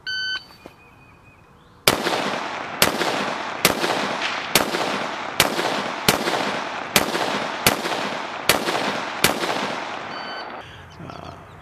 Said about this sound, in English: I've got 10 seconds after the beep to fire 10 rounds